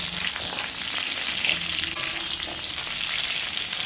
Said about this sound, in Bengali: এইখানে পটল ভাজাও হয়ে গেছে